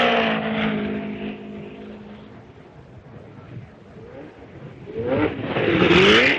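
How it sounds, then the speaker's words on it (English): Vintage race car streaking down the main straight of a racing circuit, its engine note rising and falling as it passes, fading in the middle before a loud, high revving surge returns near the end. "Streaking down the main straight, Gurney passes Unser, still in the pits"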